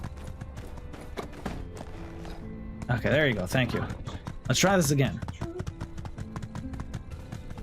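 Horse hooves clopping in the video game My Time at Sandrock, a scattering of light taps mixed with game sounds while someone talks over them.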